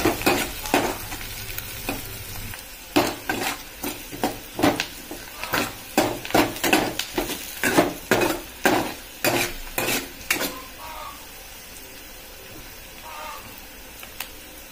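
Onions and turmeric fry in a pan for an egg fry, with a strong sizzle under rhythmic, repeated scraping stir strokes for about ten seconds before quieting to a softer sizzle, with a voice briefly near the end.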